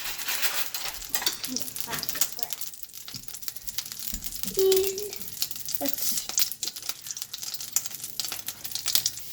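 Four pieces of garlic browning in a pan, giving a soft sizzle with stirring and utensil scraping close by, while a person talks intermittently.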